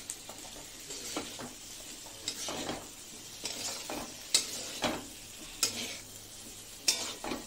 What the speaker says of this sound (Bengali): হালকা আছে এদিক এদিক নাড়বো, বেশি নাড়লে পরে ডিমটা ভেঙে যাবে।